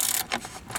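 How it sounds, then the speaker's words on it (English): Ratchet with extensions backing out instrument cluster bolts on a 1995 Pontiac Firebird, a short close run of rapid clicking. "Got my ratchet with a couple extensions. Let's start taking it off."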